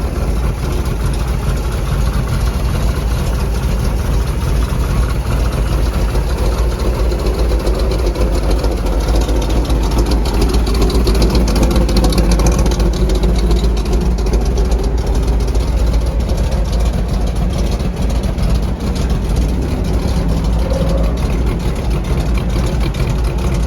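The 1976 Ford Bronco's engine, fitted with a Holley Sniper fuel injection system, idles outdoors at an auto auction event. It holds a loud, steady, low rumble throughout without revving, and no voices are heard.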